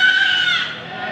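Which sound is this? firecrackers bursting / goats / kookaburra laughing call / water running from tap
goats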